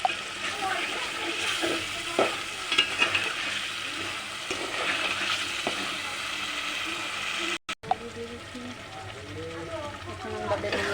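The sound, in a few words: curry with spices being stir-fried with water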